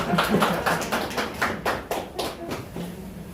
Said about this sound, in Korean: 박수 한번 같이 치시죠